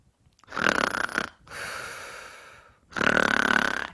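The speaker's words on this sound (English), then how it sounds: "I want you to start snoring as loud as possible" A person snores loudly and deliberately as a yoga breathing exercise, three long rasping snore bursts with brief gaps between them, close and without speech.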